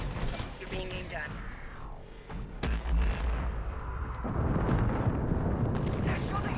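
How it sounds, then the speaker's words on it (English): Rapid bursts of gunfire crackle during a firefight in the Apex Legends video game, dense and loud with heavy low rumble, building toward the end. "They're shooting at me!"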